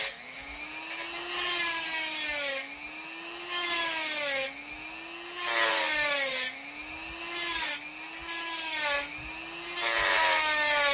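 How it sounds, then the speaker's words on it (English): A small Dremel rotary tool cutting through a thick steel knife blade, a loud high whining grind in several long bursts separated by short pauses, the motor pitch dipping and rising as it bites into the metal. "There's a lot of metal to cut through with a little Dremel."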